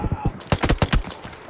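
Video game gunfire from a scoped sniper rifle rings out as a quick string of sharp, close shots, about eight cracks in barely a second, then fades into quiet.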